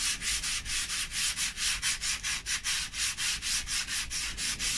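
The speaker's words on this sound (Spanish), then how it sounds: "Pero un ratito más lijando, después se va a notar en el final." Sandpaper rubbed back and forth over the painted wooden surface of a clock, a close, rhythmic scratching with quick regular strokes repeating steadily throughout.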